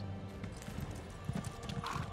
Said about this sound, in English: We should probably take our horse.